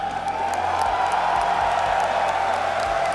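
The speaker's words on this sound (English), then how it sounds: "Can we just give a quick shout out to this wonderful crowd here in Munich?" Large esports arena crowd at the Counter-Strike Major in Munich, a steady roar of cheering and whooping that holds at a constant, loud level throughout.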